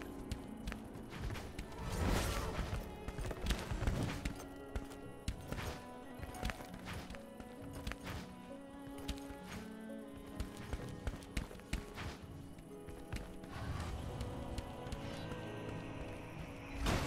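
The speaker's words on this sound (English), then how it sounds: "I hear footsteps behind me." Footsteps in the dark fantasy game DungeonBorne, a steady run of close, crisp steps moving through a busy, music-filled game scene with no talking.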